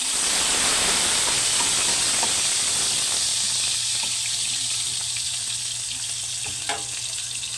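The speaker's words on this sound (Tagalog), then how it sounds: "Sige po, umpisahan na po natin na magisa" Ingredients sautéing in a hot pan while making ginisang ampalaya, a steady loud sizzle and hiss with small crackles and pops running throughout.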